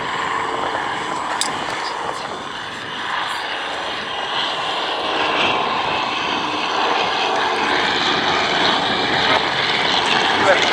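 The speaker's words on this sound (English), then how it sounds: "US-5A flying past with the two CL-1s behind them." Replica biplanes at an airshow, a 7/8-scale US-5A with two CL-1s behind it, fly past with a steady propeller-engine drone that holds loud and continuous throughout, while a commentator talks over it.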